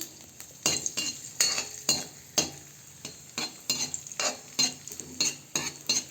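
Raisins and cashews fry in ghee for carrot halwa, a spoon scraping and clinking against the pan in quick rhythmic strokes over a soft, close sizzle, with no speech.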